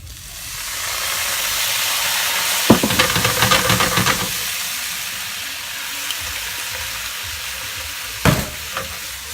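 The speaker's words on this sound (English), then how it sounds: "All we want to do is just start to cook that garlic. A little bit of white wine." Garlic frying in a pan as white wine is added, a steady close sizzle and hiss with a sharp splash-like burst and stirring scrapes, a second brief spike later, no voices.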